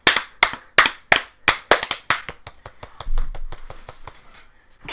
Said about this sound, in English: Clap to sync the audio